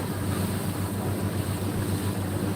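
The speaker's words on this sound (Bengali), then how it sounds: "খুবই সুন্দর দেখতে এটা হলো বালির লঞ্চ দেখতে পাচ্ছেন" Passenger launch travelling on a river in Bangladesh, a loud steady engine drone mixed with rushing water and wind noise, continuous with no pauses.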